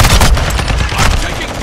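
Loud, rapid automatic gunfire in Call of Duty MW2 team deathmatch, close and continuous with overlapping shots throughout the short burst.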